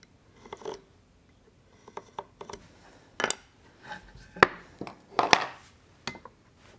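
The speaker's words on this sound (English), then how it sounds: "All right, now I can scribe it across." A marking tool drawn across a wooden rail beside a bevel during a shave horse build: a series of short, sharp scratches and light taps, spaced irregularly and close by, with quiet gaps between them.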